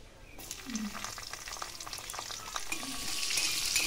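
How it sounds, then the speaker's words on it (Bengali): Mixed vegetables seasoned with turmeric and salt fry in a pan, giving a soft continuous sizzle broken by scraping stirring strokes. The sizzle swells slightly toward the end, and no one speaks. "সবজিগুলো ভেজে নেব।"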